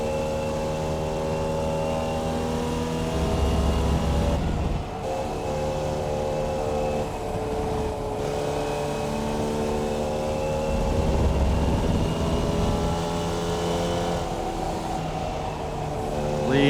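Formula Vee race car in the iRacing simulator, its small engine droning steadily at high revs with harmonic buzz, dipping briefly as the throttle lifts and shifts before climbing again, no talk over it.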